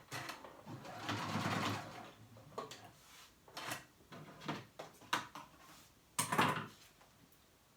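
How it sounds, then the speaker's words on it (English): A sewing machine stitches a child's romper, running in a long steady burst at the start, then stopping and starting in several shorter runs with pauses between them. "why is my sewing machine doing this?"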